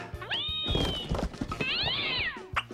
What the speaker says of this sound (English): Say, is that one of those hairless cats?